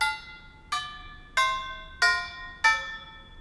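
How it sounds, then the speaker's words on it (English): Tubular bell chimes struck five times in a slow, even sequence with the damper pedal left up, each bright metallic strike cut short and fading quickly instead of ringing on, heard close and alone. "When you release and press down the pedal, it allows the tubes, the chiming, to vibrate."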